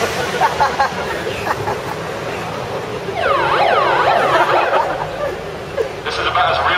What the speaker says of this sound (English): It's close to a police siren